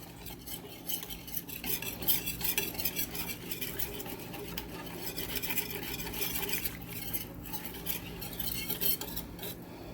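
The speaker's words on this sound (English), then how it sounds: "now we just stir like any other gravy until it thickens up" A spoon scrapes and clinks around a pan as cornmeal gravy is stirred while it thickens, giving a continuous soft rhythmic scraping with faint sizzling underneath, close and fairly quiet.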